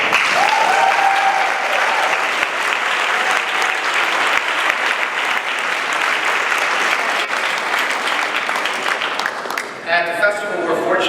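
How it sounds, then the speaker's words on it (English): A large audience at the TIFF 2018 press conference applauds steadily for about ten seconds, a dense continuous clapping that thins out at the end as a voice begins to speak. "Please join me in applauding all our filmmakers."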